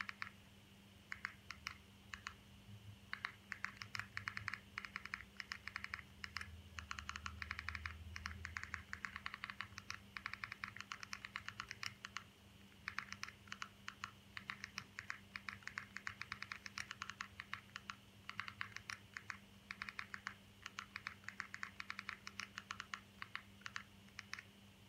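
Rapid keyboard typing into a search bar, steady bursts of close, crisp key clicks with brief pauses, running for about twenty-five seconds in a quiet room with a low hum behind.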